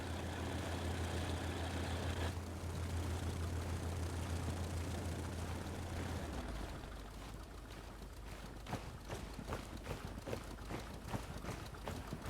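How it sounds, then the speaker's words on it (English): Planes drone overhead in the World War II shooter Hell Let Loose, a steady low engine rumble. Around the midpoint the texture shifts into rougher noise scattered with sharp clicks and impacts. "It is hard to hear what your teammates are saying sometimes with all the planes going on overhead."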